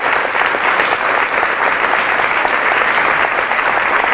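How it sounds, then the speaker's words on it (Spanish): A church congregation applauds loudly at a sermon, a dense, steady wash of clapping that holds evenly for several seconds, close and full, with only faint crowd murmur beneath. "Fuerte aplauso"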